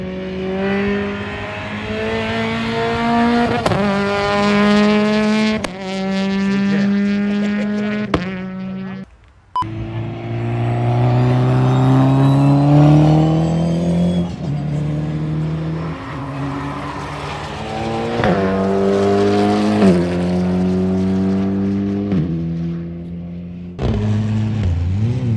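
Citroën AX GT engine revving hard on a race circuit, harmonics climbing through repeated gear changes with a brief cut near the middle, loud and close throughout.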